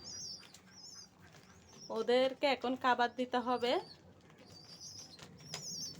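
Siraji pigeon chicks give thin, high squeaky begging calls, a few at the start and again at the end, while someone talks briefly in the middle.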